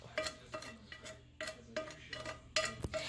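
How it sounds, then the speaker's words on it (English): Browned meat stirred in a large pan, a series of quiet metallic scrapes and clinks of a utensil against the pan, coming in short irregular strokes, close and faint. "And then we're going to stir it up."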